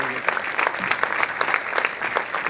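Screening audience claps to welcome the film's talent onstage for a question session, a sustained round of many hands with crisp nearby claps popping above the wash.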